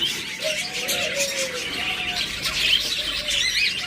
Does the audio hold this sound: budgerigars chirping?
yes